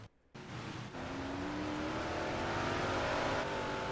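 A race car engine, heard from an on-board camera at Cedar Lake Speedway, bursts into a loud, rising roar after a brief quiet and keeps revving hard and close with a climbing pitch.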